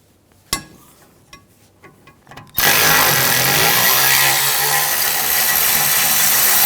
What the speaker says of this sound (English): Using a 16mm socket, I'm going to take these caliper bracket bolts out.